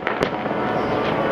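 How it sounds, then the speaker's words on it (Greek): Fireworks burst over the harbourfront on Kalymnos just after the Easter Resurrection service, a couple of sharp cracks followed by a loud, continuous rumbling crackle. "Την περιοχή γενοχώραφα πέφτουν αυτά τα βεγγαλικά."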